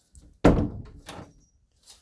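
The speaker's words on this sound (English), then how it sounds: "I need to close my fucking door." A room door is pushed shut with one solid thump, followed by a softer latch knock, close by and alone in a quiet room.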